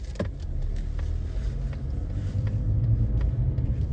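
A recycling garbage truck's engine rumbles with a low, steady drone close by, a few faint clicks and clatters over it, no voices.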